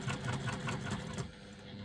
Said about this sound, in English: I'm stitching as close as I possibly can to the cording, so my foot is sort of right up against where that cord is